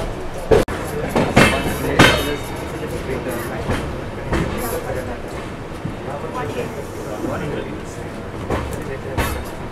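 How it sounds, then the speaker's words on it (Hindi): A train on the Khandala ghats between Mumbai and Pune, pushed from behind by banker locomotives and heard from inside a Vistadome coach: a loud, steady rumble with sharp clanks and clicks, and voices around it. "यही बैंकर लोकोमोटिव हमारे ट्रेन में भी लगाए जाएंगे जो कि पीछे से ट्रेन को पुश करने वाले हैं"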